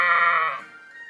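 A single sheep bleats loudly and up close, a long wavering call that holds for most of a second, then trails off into a quieter tail.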